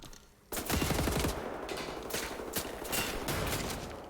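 Automatic gunfire bursts from the video game Wolfenstein: The New Order, starting abruptly after a quiet moment and continuing as dense, loud rapid shots.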